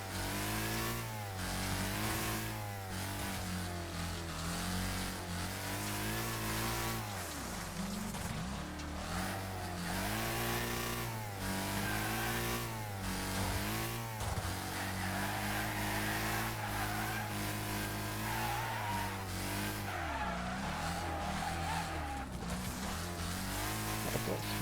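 Steady, loud car engine in the Wreckfest racing game, revving and rising and falling in pitch continuously as the oversteering car is driven through a tournament race, with brief throttle lifts and no talking.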